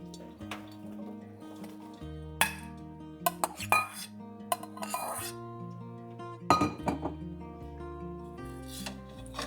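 Jalapeños are stirred into syrup in a pot: a spoon knocks and clinks against the metal sides in irregular bursts, with a soft wet slosh beneath, near and fairly quiet.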